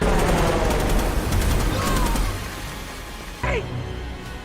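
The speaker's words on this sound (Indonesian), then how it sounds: "heli tersebut menghujani mereka dengan tembakan" Machine gun fire from a helicopter in the 2007 action film Shooter: loud rapid bursts of automatic gunfire over a rumbling mix with a whoosh near the end.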